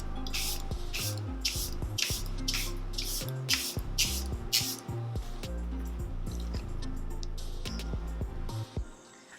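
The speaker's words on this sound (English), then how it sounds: "Gonna set everything with the Air Flawless by Charlotte Tilbury." Charlotte Tilbury Airbrush Flawless setting spray is misted onto a made-up face in a rapid series of about seven short, hissing spritzes over steady background music.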